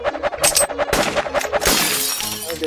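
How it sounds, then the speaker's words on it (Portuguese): Clay plate smashed by a gunshot in the shooting game Prove Yourself a Gunslinger, heard as a few quick sharp shattering bursts with crisp ringing debris, loud and close, with no talking. "Quebrei no centro o prato."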